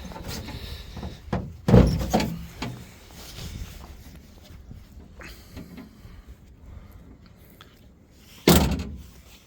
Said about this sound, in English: Shows you how good the door opens and closes.